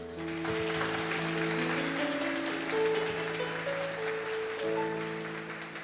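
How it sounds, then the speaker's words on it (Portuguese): A church congregation applauds together in steady, sustained clapping, with a held musical tone sounding underneath the whole time. "Vamos aplaudir o Senhor, meus irmãos."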